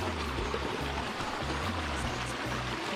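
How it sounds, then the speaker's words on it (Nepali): A jungle stream flows with a constant, close rushing wash of water that stays even throughout, with no voices. "खोलै खोला हो"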